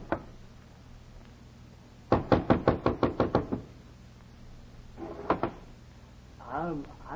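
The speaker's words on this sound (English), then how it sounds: "Knocked where it said knock." A cold door is knocked on with a quick run of about ten sharp, close raps, followed later by a couple more knocks, with a voice speaking briefly near the end in an old radio drama setting.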